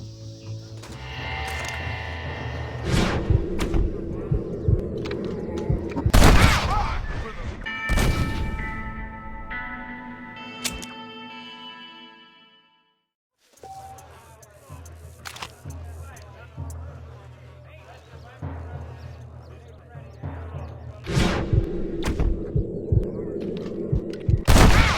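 Gunshots ring out during a Red Dead Redemption Wild West standoff, several sharp loud cracks spread across the scene among game music and spoken dialogue, with a brief drop to near silence partway through.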